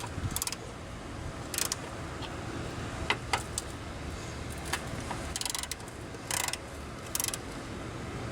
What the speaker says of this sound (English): I'm gonna have to unscrew these bolts first